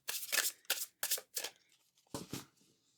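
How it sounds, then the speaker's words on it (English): A tarot card deck being shuffled, several quick riffling bursts in an uneven rhythm with short pauses between them, close and fairly quiet. "Love this deck. It's very nice to shuffle."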